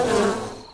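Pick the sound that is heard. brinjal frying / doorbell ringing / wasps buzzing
wasps buzzing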